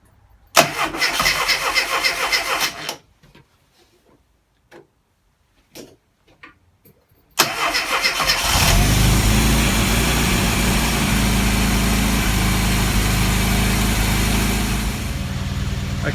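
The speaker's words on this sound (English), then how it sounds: "Okay, engine running." A Classic Mini engine cranks for a few seconds, pauses with faint clicks, then catches on a second attempt and settles into a loud, steady idle close by.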